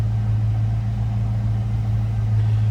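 A 1988 Ford Mustang LX convertible runs at a steady idle, heard from the rear with a deep, even exhaust drone and no talk.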